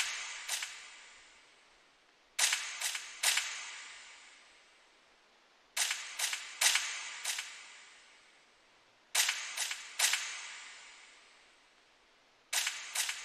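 Gunshot-style sound effect from a drill beat, repeating in loud, sharp bursts of two or three quick cracks with decaying tails, each group separated by short gaps, with no voices.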